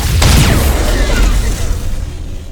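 Heavy nova cannon shot in the Battlefleet Gothic: Armada space game, a loud booming blast with rumbling low end and a descending whoosh that fades over a couple of seconds.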